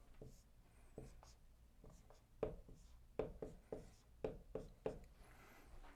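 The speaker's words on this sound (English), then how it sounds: "So let's go ahead and write that down." Pen or pencil writing by hand on paper, heard up close as quiet scratchy strokes in short irregular bursts, with brief pauses between words.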